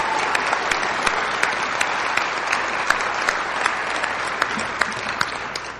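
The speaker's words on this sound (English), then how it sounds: "Even the Marines get applause." A crowd at a sobriety roundup in Destin, Florida applauds veterans in the audience, a steady, full wash of clapping with sharp individual claps standing out, sustained for several seconds with little talk.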